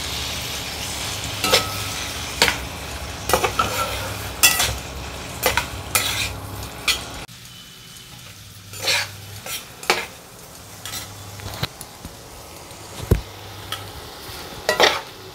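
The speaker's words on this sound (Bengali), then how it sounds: "তেলের মধ্যে দিয়ে দিচ্ছি চিংড়ি মাছ।" Shrimp frying in hot oil with a steady sizzle, a spatula scraping and clinking against the pan in repeated strokes that open and close the 15-second stretch; no one talks.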